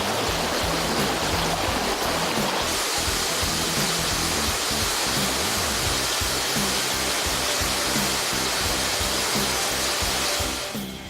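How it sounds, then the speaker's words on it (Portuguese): Cachoeira Alta, a 60-metre waterfall in forest, roars in a loud, steady, broadband rush of falling water that continues unbroken with no voices. "Uma queda d'água de 60 metros de altura."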